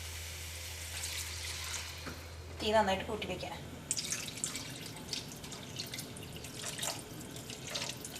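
Water runs into a cooking pot for boiling rice, a splashing, trickling pour of moderate loudness with a voice speaking over it.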